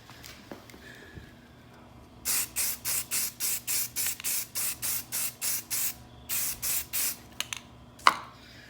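Primer being spray painted onto hubcaps in a quick run of about fifteen short, even aerosol bursts, each a sharp hiss, with a brief pause partway and a small knock near the end, close and clear with no talking.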